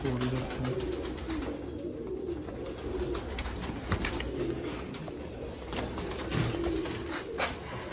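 Rare Sialkoti pigeons of the chuha type coo in a loft, low steady cooing with some bird calls, fairly close, under ongoing background talk and rustling.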